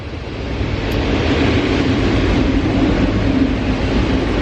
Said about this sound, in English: can you guys hear me over the train? The train's very loud.